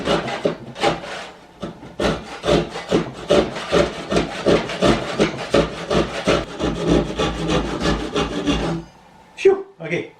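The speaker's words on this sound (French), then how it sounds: "Je vais enlever ici le morceau avec ma scie japonaise." Japanese pull saw cutting through wood while building a bathroom vanity, cramped in a corner: a close, loud run of rhythmic rasping strokes, steady for about nine seconds, then a pause and a couple of final scrapes.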